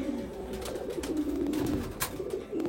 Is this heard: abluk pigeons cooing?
yes